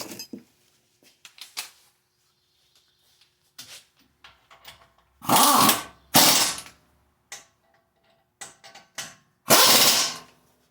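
A power tool, likely an impact driver, runs down the bolts on a front wheel bearing of a Town and Country. It fires three loud bursts of about a second each, separated by quieter clicks and small handling sounds.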